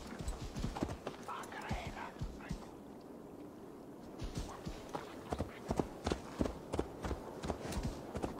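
Horse hooves clip-clop at a run in the video game Assassin's Creed Valhalla, a quick irregular rhythm of close, fairly loud hoofbeats over a steady ambient bed, with a brief quieter stretch in the middle.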